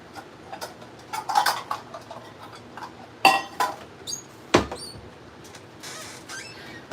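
Light clinks and taps of a bowl and utensils being handled in a kitchen, scattered short knocks with a couple of sharper clatters and quiet gaps between.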